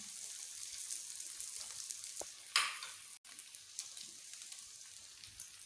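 Eggs for a potato sandwich hiss and crackle faintly in a hot pan, a steady soft sizzle with a brief brighter spatter partway through.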